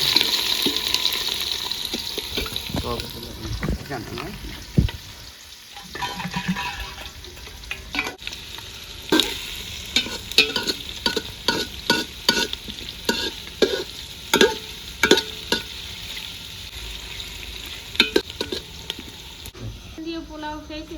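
Chopped onions sizzle in a pan in a village kitchen while being stirred for chicken pilau, with a steady frying hiss broken by frequent sharp scraping and clattering stirs.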